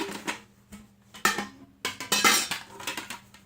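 An aluminum camping cook kit with a pot and three plates is handled, giving repeated close metallic clinks and rattles. The clatter comes in irregular bursts, with louder clanks as the plates knock against each other and the pot.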